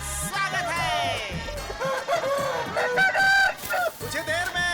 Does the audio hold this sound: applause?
no